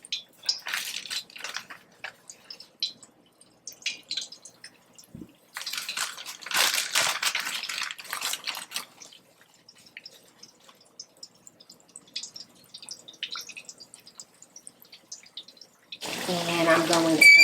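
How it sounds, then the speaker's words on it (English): Catfish frying in a pan of hot grease gives sparse, scattered crackles and pops, faint and irregular, with quiet gaps between them and a brief voice near the end. "And now I'm going to add the catfish to the pan. So fry up."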